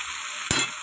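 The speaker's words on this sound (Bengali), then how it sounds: "এরপরে মাছের মাথাগুলো দিয়ে দেবো" Hilsa fish heads frying in a pan, a brief loud splash of sizzle as they drop into hot oil over a steady hiss, close by with no talk.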